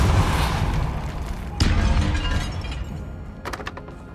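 A Depulso force spell in Hogwarts Legacy, a sharp burst and crack partway through followed by a fading rumble, with a few smaller clattering hits near the end over dim ambience.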